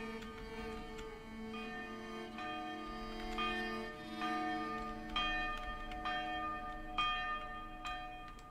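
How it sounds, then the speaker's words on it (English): A church bell rings in the medieval village-building game Manor Lords, sustained, overlapping tolls with long resonant hums repeating roughly every second, heard softly in the background without any talking. "Oh, the bell's ringing."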